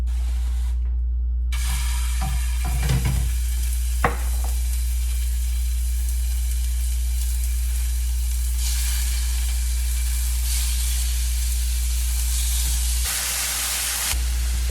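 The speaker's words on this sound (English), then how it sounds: "This is the bit that's going face down on the hot pan" Chicken laid face down in a hot pan, a loud continuous close sizzle and spitting hiss after a brief silent start, with a few clatters early on and a steady hum underneath.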